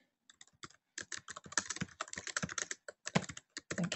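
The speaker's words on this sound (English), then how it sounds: "let's type this in here." Rapid clicking keystrokes on a computer keyboard, starting with a few taps then breaking into steady bursts of close, crisp typing with brief pauses, alone without talk.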